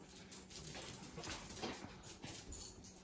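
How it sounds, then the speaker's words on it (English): A dog in a home kitchen makes short broken whimpering and yipping sounds, moderately close, recurring over low household background with no talking. "So it might get crazy and barking in here"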